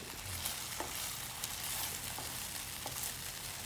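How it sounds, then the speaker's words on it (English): Ingredients for canned tuna croquettes sautéing slowly over low heat, a soft, even, faint sizzle with a few light stirring clicks and no voices. "You just saute and cook it slowly and better."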